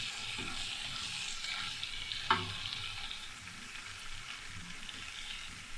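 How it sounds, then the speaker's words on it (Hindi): Steady sizzling and crackling of garlic and ginger frying in hot oil, with occasional scrapes of a spoon stirring the pan. "लहसुन अदरक फ्राई हो गया"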